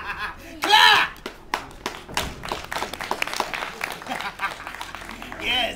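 A small audience claps for a stage performance of a play, a brief burst of applause and cheering early on, then scattered taps and thumps continue behind a speaking voice.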